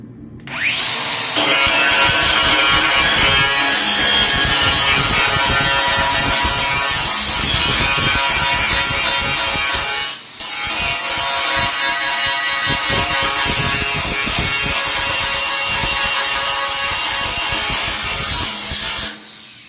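An angle grinder works loudly and continuously over the welded seam of a steel lawn roller, a harsh whirring grind with a brief dip midway before resuming and then stopping, no talking over it.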